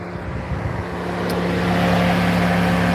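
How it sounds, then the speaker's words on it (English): A steady mechanical drone with a low, constant hum, growing slightly louder over a few seconds, like a fan running nearby. "vent fan still going."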